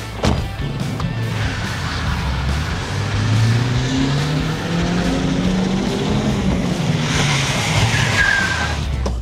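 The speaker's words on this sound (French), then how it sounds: "Parce que la caisse elle a commencé à pivoter, elle a pris beaucoup de vitesse." A car spinning out and braking, its tires skidding in a long, loud squeal that rises and bends in pitch over a strained engine, with no talk.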